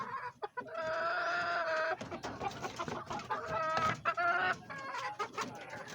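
A hen clucks close by in repeated, irregular bursts, with several drawn-out, throaty calls, heard alone without talk.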